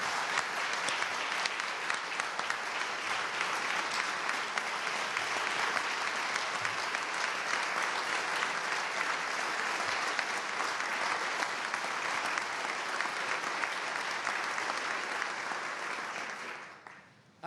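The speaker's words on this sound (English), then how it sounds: "I hope you'll join me in a round of applause for our state workforce." An audience at Virginia's 2022 State of the Commonwealth address applauds the state workforce with sustained, steady clapping that fills the room for about seventeen seconds before tapering off at the end.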